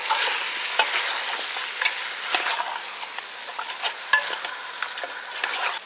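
Beef stew with tomato paste sizzles steadily in a pan over low heat while a utensil scrapes and clicks through it in irregular stirring strokes, fairly close and moderately quiet.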